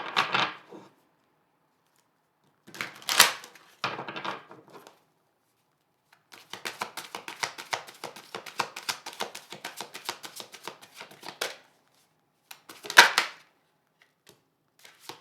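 Tarot cards are shuffled and pulled by hand, with brief riffles and flicks at first, then a long run of rapid close crisp card slaps, and a final sharp riffle, with silent gaps between.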